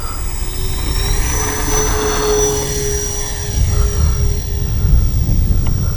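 OV-10 Bronco radio-controlled model plane with flaps set for takeoff, a loud close engine whine holding steady and rising slightly as it powers up, with rushing air underneath.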